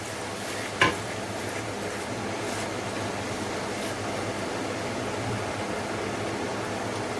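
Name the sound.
tomatoes frying in pan for daal palak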